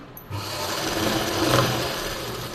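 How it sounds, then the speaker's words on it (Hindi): A sewing machine stitching the lining of a blouse starts after a brief quiet moment and then runs as a steady, close, continuous whirring hum to the end. "तो इसमें भी ऐसे ही सिलाई लगा लें।"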